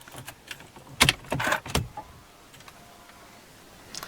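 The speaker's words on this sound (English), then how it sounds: "the key goes into this slot here" A key sliding into the ignition slot of a 2012 Audi A5 Sportback S Line, a cluster of close metallic clicks and jangles, followed by faint mechanical ticks inside a quiet cabin.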